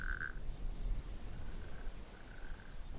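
Natterjack toads croak from dune pools in one of their last English strongholds, with a near rolling trill at the start followed by fainter trills further off over a low outdoor rumble.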